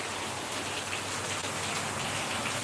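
Steady, dense monsoon rainfall in Mumbai patters continuously on surfaces, an even wash of drops with no pauses.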